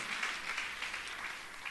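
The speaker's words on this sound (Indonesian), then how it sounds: "Berikan tepuk tangan sekali lagi." Applause from a church congregation during a worship service, a steady broad wash of clapping held at an even level throughout, with no clear individual claps standing out.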